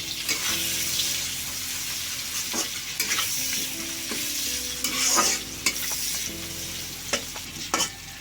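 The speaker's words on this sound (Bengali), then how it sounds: "দিয়ে দেব টমেটো কুচি, আমি বড় করে টুকরো করেছি" Large chopped tomato pieces fry in oil with turmeric for dhania chicken, giving a continuous bright sizzle. Repeated scraping strokes of a stirring spoon against the pan cut through the sizzle, and no one talks.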